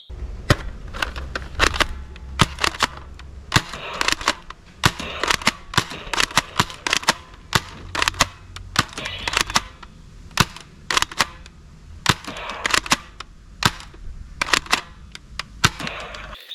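A toy gel blaster fires in sharp, dry snapping shots, some single and some in quick bursts, spread irregularly across the clip, close and fairly loud with no talking.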